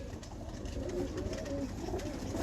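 A female performing pigeon, four years old, cooing in low, throaty, continuous murmurs close by, with steady background noise and no talking.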